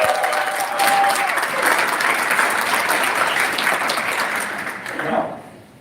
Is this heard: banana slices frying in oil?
no